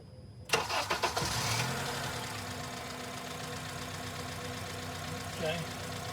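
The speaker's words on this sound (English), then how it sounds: "I will start the car." A car engine cranks and catches, a rapid burst of starter pulses followed by a steady idle that runs on, close by, with a brief louder rev or clunk near the end.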